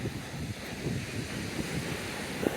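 Ocean waves wash onto the beach at La Punta, Puerto Escondido, Mexico, a steady broad roar of surf mixed with wind noise, close and continuous without a distinct single break.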